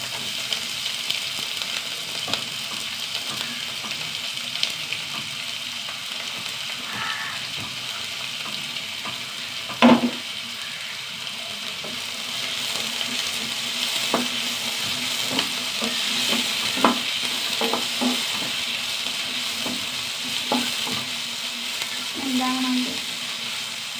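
Onions, green chilies and cumin sautéing in a pan, a steady soft sizzle with occasional stirring scrapes and clinks throughout, one sharper knock near the middle.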